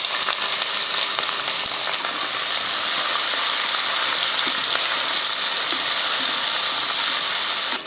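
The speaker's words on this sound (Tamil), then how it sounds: "வெங்காயம் நல்லா வதங்கட்டும்." Two large onions sauté with whole spices in hot oil inside a pressure cooker for chicken biryani, giving a loud, steady sizzle and hiss with faint crackles and a brief stirring scrape.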